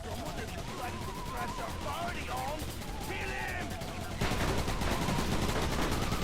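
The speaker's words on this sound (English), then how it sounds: "They are shooting grenades at me" Grenade launcher fire in the vehicular combat game RoadKill, a dense run of blasts and rattling shots layered over engine and game effects, growing louder and more intense toward the end.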